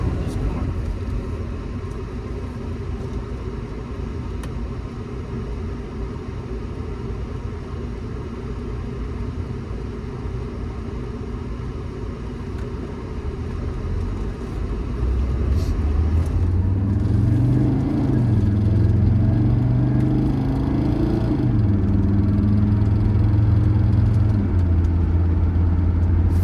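A 1979 Mercedes-Benz 300SD with only 6,700 miles is driving at about 55 mph, giving a steady low engine and road rumble. A louder droning engine tone rises and wavers in the second half, with speech over it.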